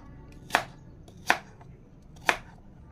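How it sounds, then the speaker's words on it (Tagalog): An apple being sliced thinly with a knife on a board, three crisp cuts spaced about a second apart, each a short sharp crunch in a quiet room. "Islice po natin ng maninipis."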